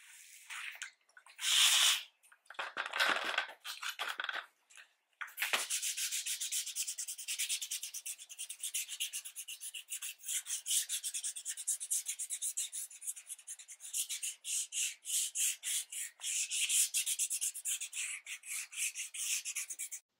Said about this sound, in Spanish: Cuando lo están lijando en mojado